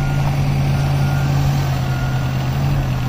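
A road crew truck clearing hard-packed snow outdoors in Bethlehem, Pennsylvania, runs loud and steady with its engine rumbling throughout, and a continuous backup beeper sounds while it reverses.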